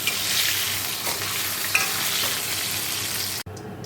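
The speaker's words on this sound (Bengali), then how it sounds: "এদিকে আলু ভাজা হচ্ছে" Potatoes fry in a pan on a home kitchen stove with a continuous close-up sizzle and crackle, holding steady until it cuts off abruptly near the end.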